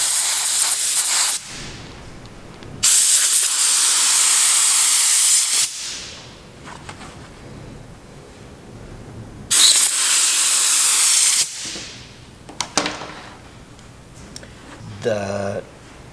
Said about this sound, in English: So I use an air gun.